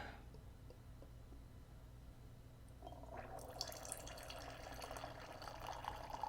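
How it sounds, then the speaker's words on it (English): Red wine, a 2016 Côtes du Rhône Villages red blend, poured from the bottle into a glass, starting about halfway through as a steady trickling splash over a low background hum, moderately quiet. "So we're going to go ahead and pour this. We're going to give it a good pour."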